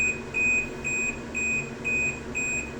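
A washing machine gives a run of short, evenly spaced electronic beeps when its spin cycle ends. The five or so clear high tones repeat at a steady rhythm over a low hum, with no talking.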